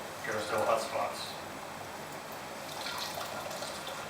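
Hot wort squeezed by hand from a homebrew grain bag drips and trickles into liquid below, a short wet splashing burst near the start, then fainter dribbles.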